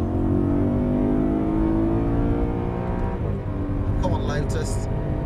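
A race car accelerates hard out of a corner on the Silverstone circuit, heard from inside the cockpit. The engine note climbs steadily and loudly under a voice talking over it.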